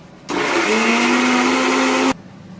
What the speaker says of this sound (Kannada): ಸೊ ಅದೇ ಜಾರ್ಗೆ ಹಾಕೊಂಡು ಇನ್ನೊಂದ್ಸಲ ಮಿಕ್ಸರ್ ಕರ್ರ್ ಮಾಡ್ಕೊಂಡು